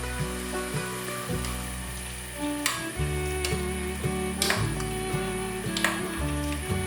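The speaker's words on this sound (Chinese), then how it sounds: "把豆苗放进来烫" Pea shoots go into a pot of boiling water with a little oil and salt, giving a steady bubbling hiss with faint clicks beneath background music.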